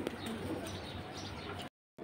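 Pigeons, including Toța, Silver, Shafchila and Jabra hens, coo softly and faintly in a few low, repeated calls, dropping to silence briefly before the end.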